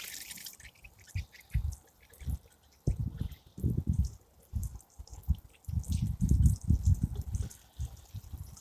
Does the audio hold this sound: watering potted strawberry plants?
yes